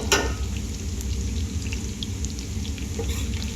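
Garlic dropped into hot olive oil while cooking chicken khichuri, giving a steady close sizzle with a sharper crackle at the start and no talking.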